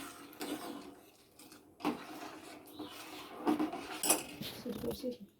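A spoon stirs milk and sugar in a metal pot, making soft scattered clinks and scrapes against the sides, quiet and close with irregular gaps between strokes.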